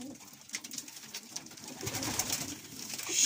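Pigeons in a loft coo in soft, low murmurs alongside scattered bird calls and light rustling, the sound swelling a little toward the end.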